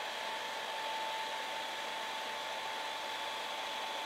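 A hair dryer blows steadily and close up while drying a wig hairline, a constant whooshing hum with a faint steady tone and no speech.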